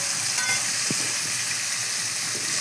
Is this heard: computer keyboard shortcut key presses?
no